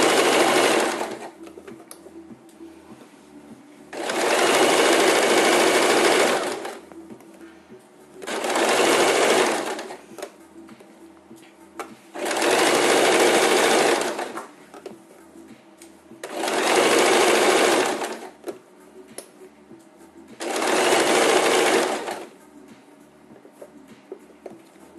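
An overlock sewing machine serges a fabric edge in five loud bursts of steady whirring stitching, each a second or two long, separated by quieter pauses with faint handling noise.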